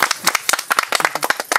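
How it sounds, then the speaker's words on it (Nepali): A burst of brisk, dense hand clapping from a group, close and lively, at an event honoring outstanding farmers in a Nepali comedy skit. "ताली।"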